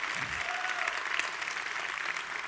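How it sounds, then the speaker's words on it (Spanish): A church congregation claps during a sermon, a continuous wash of applause heard at moderate distance and fairly quiet, steady throughout the short stretch. "si vas a aplaudirlo con más ganas, iglesia"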